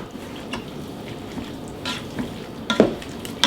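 Keto lasagna soup being stirred in a pot, with soft scraping and liquid sloshing under a low simmer, a few louder clinks of the spoon against the pot near the end.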